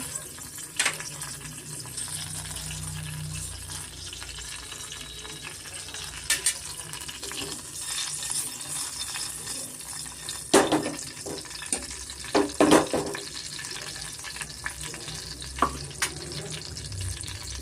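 Fennel seeds and a couple of bay leaves sizzle in hot oil in a pan for a raw peanut curry, a soft steady crackle with scattered sharp pops and clinks of stirring, no voices.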